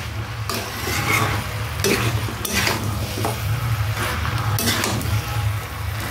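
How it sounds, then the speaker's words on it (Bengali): Tomatoes stirred in a sizzling cooking pan, with steady frying hiss and repeated scraping strokes of a spoon against the pan, close and fairly loud throughout. "এখন টমেটোটা দিয়ে এইভাবে নাড়তে থাকবো।"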